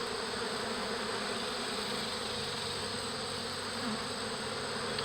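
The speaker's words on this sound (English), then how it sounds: "They're making a beeline in the air straight to the beehives." A dense, steady buzz of many honeybees flying to a sugar syrup feeder and hives fills the air, constant and close, with no voices.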